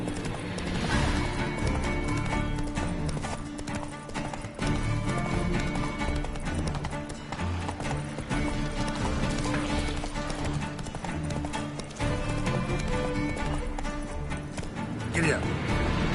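Roach, Geralt's horse in The Witcher 3, gallops with fast, steady hoof clip-clops and occasional whinnies, loud and close, under game music and a voice talking.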